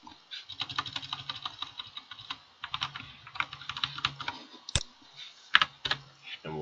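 Rapid clicking keystrokes on a computer keyboard, typed in quick bursts with brief pauses, close and clear with no talking over them.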